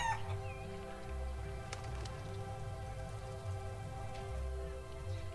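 Chicken clucking in the Wallace & Gromit's Grand Adventures video game, set at a fair, comes through as a few soft clucks over a steady droning game ambience with a low hum.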